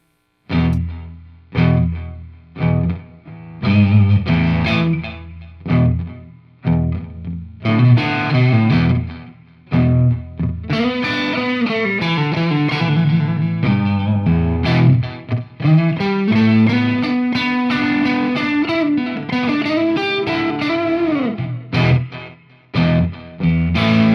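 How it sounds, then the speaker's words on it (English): Electric guitar played through a Fender Tone Master Pro with digital delay and tape echo in a preset: picked phrases and sustained bent notes trailing into repeating echoes, loud and alone with no voices. "I've turned off the round fuzz silicon, and I've turned on the digital delay and the tape echo."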